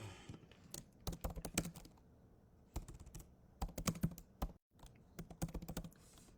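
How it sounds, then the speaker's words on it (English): Steady bursts of typing on a computer keyboard, close and fairly quiet, with clustered keystrokes and brief pauses between words. "now I can type in good morning on Facebook."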